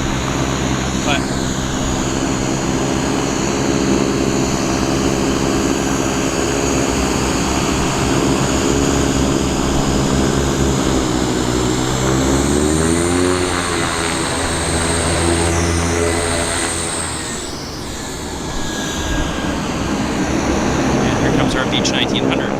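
A Beechcraft 1900 propeller airliner at Vancouver airport gives a loud, close, steady droning roar with a strong propeller hum. The pitch sweeps midway, then the noise briefly eases before swelling again.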